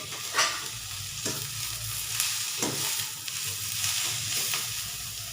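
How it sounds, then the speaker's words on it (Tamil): Dried red chillies fry lightly in a pan for a goat head curry, giving a steady soft sizzle with a few sharper stirring scrapes spaced through it. No one talks. "ரெண்டே ரெண்டு மரம் மிளகாய் இது கொஞ்சம் லைட்டாக வதங்கினாலே போதும்"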